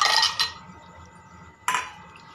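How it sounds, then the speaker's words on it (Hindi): Ice cubes dropped into a glass rimmed with red chili for a mango drink: two bright clinking impacts, the first a quick cluster and the second a sharp knock, near and clear in a quiet kitchen. "फिर हम इसमें कुछ आइस क्यूब्स डालेंगे।"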